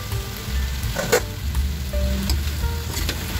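Food sizzles and fries steadily in a pan, the hiss constant with a few stirring clinks and light scrapes close by, during home cooking of a dish with black pepper before shrimp is added.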